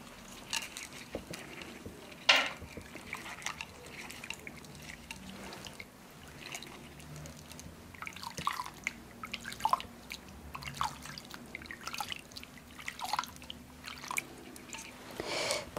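Hands swishing and playing in a basin of rose-petal water during a massage, giving soft, close drips, trickles and light splashes that come and go irregularly with no talking.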